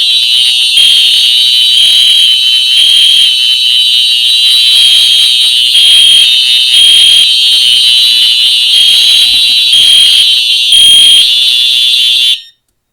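Fire alarm horns sounding during a system test, a loud 4903 horn blaring in a steady, high pulsing tone with a fainter Genesis device underneath, running continuously before cutting off abruptly at the end.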